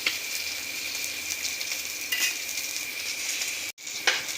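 Bamboo shoot pakoras deep-frying in hot oil, a steady bright sizzle close by with occasional clinks of a utensil against the pan and a brief break near the end, no talking.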